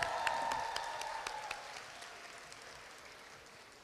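Audience applause at a Korea University international summer program graduation ceremony, a moderate burst of clapping with a few sharp claps that fades steadily over several seconds.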